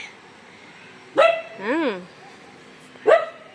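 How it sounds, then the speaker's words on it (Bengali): A dog outside barks at another dog: two loud, close barks about two seconds apart, with a brief wavering vocal sound in between. "ওই যে বাইরে কুকুর এসছে বলে দিচ্ছে"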